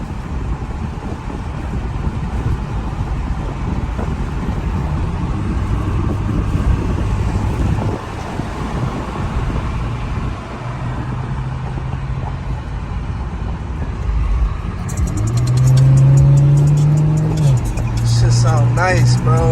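Infiniti Q50S with a muffler delete, its engine rumbling steadily and loudly close by, then rising into a sharper rev near the end, with wind buffeting and people talking over it.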